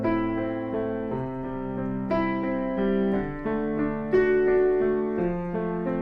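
A piano plays the House of the Rising Sun arpeggio, broken chords rolling steadily through repeating six-note figures, clear and alone with no talk.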